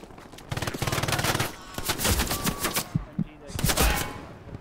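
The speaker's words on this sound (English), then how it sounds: "There's an MG just past me on the right side of the road." Machine gun fire in the Hell Let Loose WWII shooter, with rapid bursts of automatic shots and scattered gunfire echoing around, mixed with battlefield noise and bursts of voice chat in between.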